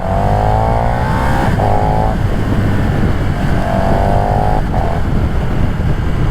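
A KTM Superduke 1290 EVO motorcycle is ridden on the road, its engine roaring and rising through revs with wind rush, heard loud and continuous from the rider's position while people talk faintly.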